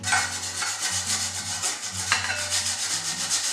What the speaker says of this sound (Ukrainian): Натираю почергово картоплю та цибулю.